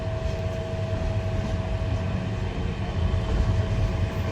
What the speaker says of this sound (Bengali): ব্রাহ্মণবাড়িয়া রেল স্টেশন ছেড়ে যাচ্ছি।